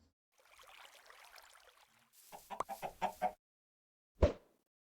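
Minecraft chicken clucking in a short run of pulsed, clucky notes, preceded by a soft noisy rustle and followed after a pause by one sharp, loud cluck; no talk.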